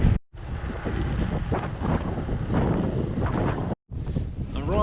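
A strong headwind roars across the microphone of a loaded bikepacking bicycle riding a newly paved road, a loud, steady buffeting rush broken by two very short dropouts.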